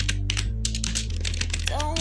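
A Linux terminal command is typed on a computer keyboard as a run of quick clicking keystrokes over a steady low hum, with a brief tonal sound near the end.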